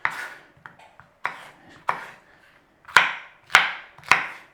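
Bell peppers diced into cubes with a knife on a cutting board, giving six sharp, separate chops spread unevenly with short pauses, close and fairly crisp, alone with no talk.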